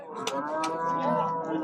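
A cow moos loudly and close at a livestock market, one sustained, rich low call lasting over a second with slight breathy bursts at its start.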